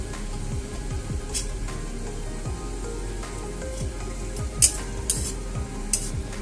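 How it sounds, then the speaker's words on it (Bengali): Coarsely cut onions hit a hot frying pan already holding golden-browned onions, giving a steady close sizzle with a low rumbling bed and a few sharp clicks and spatters near the end. "এবারে আমি এর মধ্যে দিয়ে দেব বড় করে কেটে রাখা সেই পেঁয়াজগুলো"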